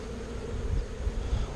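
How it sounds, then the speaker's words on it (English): A dense, continuous hum of many honeybees buzzing close by at an open hive, steady and low-pitched with slight swells, nothing else over it. "shake the bees off."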